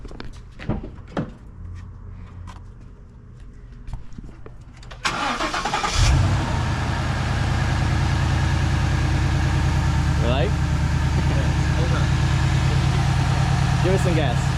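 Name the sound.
Mustang GT engine starting and idling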